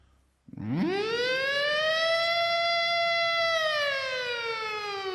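A voice imitates a siren, rising from a low start into a long, loud, steady wail that holds for several seconds before easing slightly.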